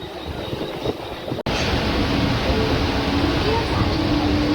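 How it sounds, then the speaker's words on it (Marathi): A train rumbles steadily along the tracks, a loud continuous roar with a brief sharp click partway through. "चलो ट्रेन आलेली आहे"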